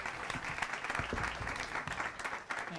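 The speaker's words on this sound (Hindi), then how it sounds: "तालियां हो जाए" A studio audience breaks into steady, dense applause on a comedy reaction show, many hands clapping continuously and fairly close, with no voices on top.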